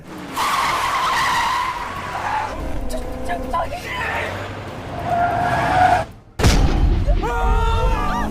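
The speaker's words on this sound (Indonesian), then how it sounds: "yang dimiliki Supriyono, ia kemudian meretas sebuah mobil untuk ditabrakkan ke mobil Wonyu." A car skids with tyres squealing during a chase scene, loud and close, with a heavy impact boom partway through, followed by more skidding and engine noise; a voice talks over much of it.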